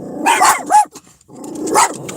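A dog barks and growls nearby, a couple of loud, rough barks with a short pause between them, alone and without talking.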